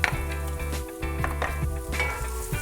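Brussels sprouts seasoned with salt and pepper sizzle steadily in a pan, a close, continuous frying hiss with a few light utensil clinks and stirring scrapes.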